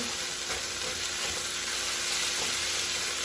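White rice and roasted peppers fry and are stirred around in a hot pan, a continuous close sizzle with soft scraping from the stirring, steady and even throughout.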